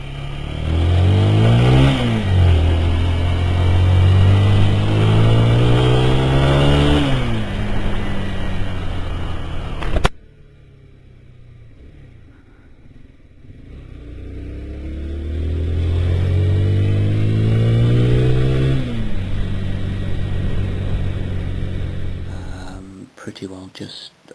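Motorcycle engine heard from a helmet-mounted camera, revving up through the gears with rising and falling pitch, wind-rushed and loud, easing off then building again as the bike accelerates.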